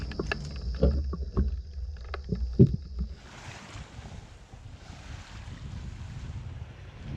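A sailboat glides under sail across clear blue Bahamian water, with a few close knocks and bumps at first, then a steady rushing wash of water and breeze carrying on alone.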